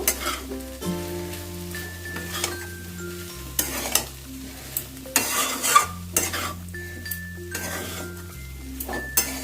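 A spoon scrapes and clinks against a pan as flattened rice is tossed with cooked vegetables, irregular close metallic knocks over a soft sizzle, while music plays underneath.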